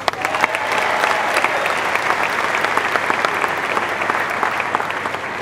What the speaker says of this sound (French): J'aimerais aussi que vous applaudiez très fort un ami frère